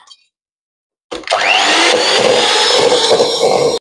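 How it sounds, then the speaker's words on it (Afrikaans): An electric mixer whirs steadily as it beats soft potato donut dough, starting abruptly after a brief silence and holding a loud, even mechanical drone to the end. "dan klits ek hom net weer goed deur"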